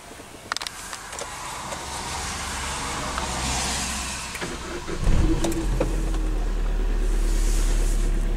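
A 2011 Citroen C4 Picasso engine cranks and catches at about five seconds, then settles into a loud, steady low idle, with faint clicks and rustle beforehand.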